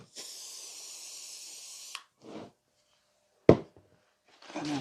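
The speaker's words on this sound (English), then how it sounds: "Give it a spray with some hairspray." Hairspray hisses from an aerosol can onto a handmade model tree for a railway diorama: one steady two-second burst close by, then a couple of short sprays and small knocks, with quiet pauses between.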